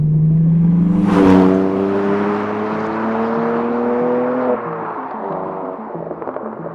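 Sports car exhaust with the rear silencer box removed, revving hard with a sharp blip then a sustained rising drone that drops as revs fall, loud and close with no talking.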